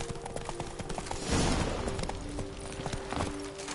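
Roach, the horse in The Witcher 3, gallops with fast hoofbeats under a dense, loud layer of game music and ambience, the hooves only partly standing out.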